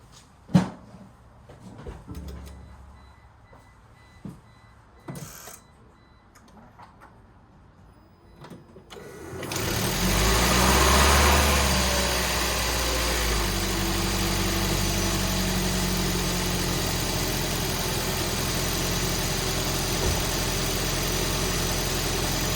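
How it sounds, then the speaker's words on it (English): Several scattered clicks and knocks, then a 2004 Toyota Prius engine cranks and catches, settling into a loud, steady idle hum for the rest of the time. "So now I'm just going to start the engine."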